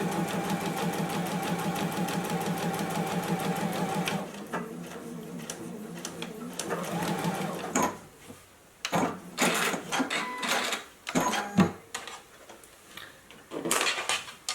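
A JUKI sewing machine stitches a face mask seam in a rapid, even run of needle strokes for about four seconds, then stops, followed by scattered handling clicks and fabric rustles.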